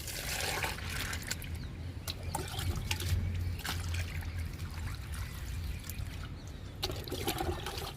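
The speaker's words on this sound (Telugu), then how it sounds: "ఫస్ట్ డబ్బాలో పోద్దామండి లిక్విడ్ని" Liquid plant fertilizer is poured from a container into a can in a garden, making a steady, close trickle and splash that lasts throughout, with no voices.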